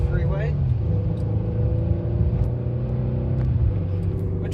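A 2016 Mercedes-Benz E 350 accelerates up a freeway on-ramp, its engine a steady low rumble under constant road noise, heard from inside the cabin.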